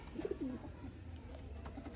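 Pure Sialkoti breeding pigeons coo in a short low burst near the start, followed by quieter rolling coos against a constant low hum.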